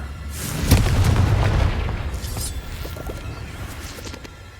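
A Confringo fire spell blasts in the game Hogwarts Legacy, one heavy booming explosion early on that rumbles and slowly fades under lingering crackle and ambient noise.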